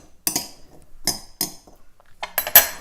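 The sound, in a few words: mixing broad bean salad in a bowl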